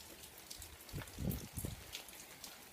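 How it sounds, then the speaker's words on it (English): Steady outdoor rain, faint and distant, falls as a soft continuous patter with a few slightly louder splashes in the middle. "do you dare me to vlog in the rain?"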